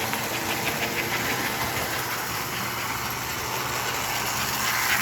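A 302 AC/DC Atlantic engine held at full throttle, a continuous loud mechanical drone with steady vibration and no break across the whole stretch.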